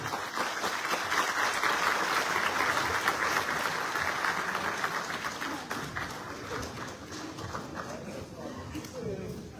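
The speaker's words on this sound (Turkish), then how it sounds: "Büyük alkışlarla kadın kollarımızı davet etmek istiyorum." Dense audience applause fills a Turkish political party advisory meeting in Keşan, loud and continuous at first and then gradually thinning.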